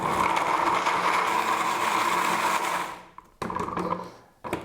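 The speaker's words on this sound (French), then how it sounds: "Je mets dans mon blender, j'ajoute l'huile de coco" A blender whirs steadily while mixing dates with coconut oil, then stops and restarts in short pulses before winding down.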